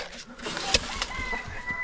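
A large rooster and hens in a farmyard chicken coop make short, close clucking calls, with one sharper squawk standing out amid scattered fowl sounds.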